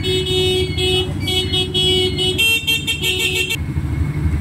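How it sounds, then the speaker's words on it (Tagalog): A horn on an ATV or UTV sounds in repeated honks at close range, with a steady engine running underneath and a rapid series of short toots near the end. "Busina."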